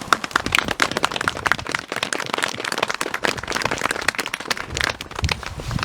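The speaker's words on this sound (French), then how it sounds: "On peut peut-être applaudir les enfants." An outdoor memorial ceremony crowd applauds children after they recite poems. The clapping is lively and uneven, with crisp close hand claps crackling over a looser background of applause throughout.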